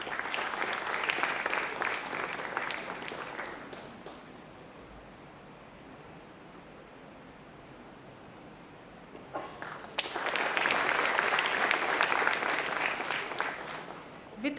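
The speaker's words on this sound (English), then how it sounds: "With a huge round of applause" An audience at an IMDR rank-holder ceremony for the PGDM batch 2021-23 claps in two strong rounds of applause, separated by a quieter stretch where the clapping fades to faint scattered noise.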